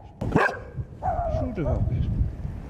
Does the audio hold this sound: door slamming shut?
no